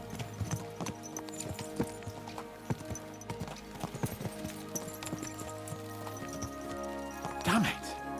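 Horse hooves clip-clop in a steady trotting rhythm in Kingdom Come: Deliverance II, close and clear, with a brief neigh near the end under background game ambience.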